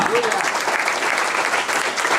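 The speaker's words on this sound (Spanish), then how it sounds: "Den un fuerte aplauso al Señor." A church congregation applauds loudly and steadily throughout, a dense continuous wash of clapping with a brief tonal voice trace near the start.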